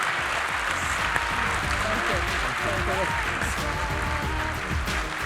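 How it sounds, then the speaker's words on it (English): An audience gives a round of applause for Indra Nooyi, former PepsiCo CEO, at a talk: a steady wash of many hands clapping, moderately distant, with a speaker's voice continuing over it. "Give her a big round of applause."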